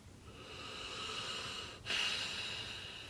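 A single deep inhalation followed by a slightly louder exhale, close and breathy with a soft hiss, heard alone without talk.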